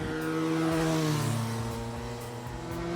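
QJ Motor SRK 400 400cc motorcycle engine revving on the highway, a loud, steady, close engine drone with rising and falling harmonic tones as it pulls through the gears, no talk.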